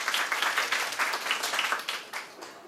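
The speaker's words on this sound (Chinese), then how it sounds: "我们掌声欢迎那个吴声老师" An audience at an open-source education discussion session at COSCUP 2019 claps to welcome a speaker, a short burst of applause from a small crowd that fades toward the end.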